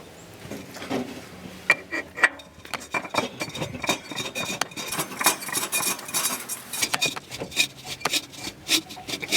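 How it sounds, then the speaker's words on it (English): A car oil filter being spun on by hand until hand tight, producing close, irregular metallic scraping and clinking taps with small rubbing sounds during an oil change, no talking. "I want to get that filter hand tight"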